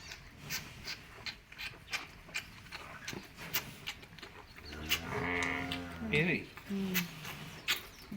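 A sheep on a farm gives one clear, drawn-out bleat midway, set against scattered ticking and shuffling noises and some nearby human voices.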